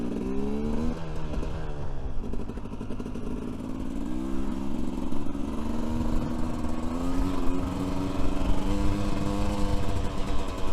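A Kove 450 rally motorcycle, a two-stroke, revs and accelerates while being ridden across the desert, its engine loud and close throughout with rising and falling pitch as the throttle opens.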